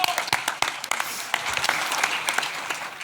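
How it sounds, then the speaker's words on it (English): A crowd applauds steadily, with a dense patter of many hands clapping together for about three seconds. "So give him a round of applause for that."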